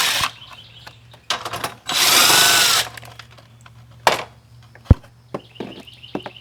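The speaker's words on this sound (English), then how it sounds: "you decide you need power tools to remove" A power drill works screws loose on a Kubota B2601 tractor, with a long loud burst of whirring, short spurts and trigger blips, plus clanks and knocks between runs in a quiet workshop.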